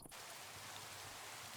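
Steady hissing rain falls in the Minecraft video game, a dense, even wash of sound that starts suddenly and continues alone at low volume.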